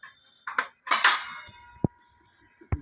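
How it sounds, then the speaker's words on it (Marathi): Glasses and plates knock and clink in a home kitchen as they are taken out, a few scattered bright clatters with short quiet gaps between them. "ग्लास काढूया मस्त. ग्लास प्लेट घेऊया पोहेसाठी."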